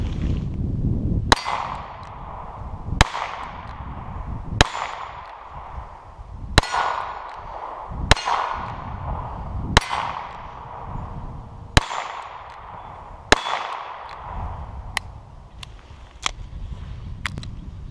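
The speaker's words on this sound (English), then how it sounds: "This is a great little revolver chambered in .22 long rifle. First shots of the morning." A Smith & Wesson Model 63 revolver in .22 Long Rifle fires about ten sharp, close shots at an outdoor range, spaced roughly every one and a half to two seconds, each a crisp crack with a short ringing tail.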